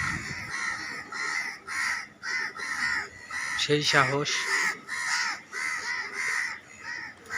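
Crows caw loudly and repeatedly from a rooftop in rhythmic harsh calls. Someone speaks briefly over them midway.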